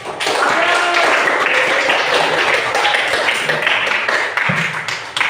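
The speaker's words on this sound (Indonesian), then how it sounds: "Kita berikan tepuk tangan buat Abian." A classroom of students claps for a classmate in a sustained, moderately loud burst of hand claps that thins out near the end, with a voice faintly underneath.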